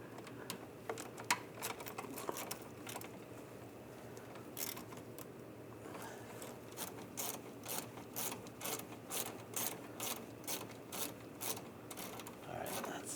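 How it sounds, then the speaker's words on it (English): A 1/4-inch socket ratchet loosening a hose clamp on the thermostat housing of a 2009-2010 BMW 535i 3.0L I6, heard as a run of quick, fairly close ratcheting clicks in an even rhythm that grows steadier toward the end. "Loosen this hose clamp up."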